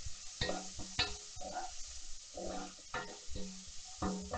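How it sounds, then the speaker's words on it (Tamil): Onions sizzle and crackle in a hot pan, with a utensil stirring and scraping against the metal every so often; no one speaks. "வெங்காயம் ஓரளவுக்கு வதங்கிடுச்சு."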